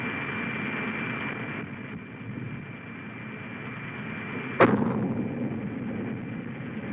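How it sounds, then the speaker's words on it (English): A large industrial dust collector with welded-down explosion panels bursts apart in one sharp, forceful blast partway through, preceded and followed by a steady low rumbling background. "you can see it blows that dust collector apart, with a lot of force"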